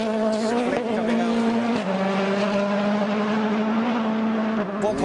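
Mikko Hirvonen's rally car at WRC Rally Australia 2011 roars past as a loud, sustained engine note, with the pitch briefly shifting as it changes gear.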